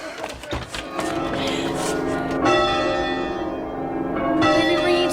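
Church bells ringing on and on in a dense, continuous peal, loud and close, with overlapping strikes merging into a sustained clangour and no speech.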